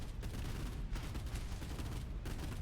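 Naval gunfire in a video game, destroyers firing beehive flak shells: a dense, continuous roar of rapid blasts and rumbling booms, loud and close throughout.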